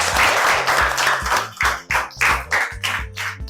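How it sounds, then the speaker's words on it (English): Children in a classroom at a school reading competition clap for themselves, a lively, uneven patter of hand claps over a low steady tone, close by and without talk. "Clap for yourselves."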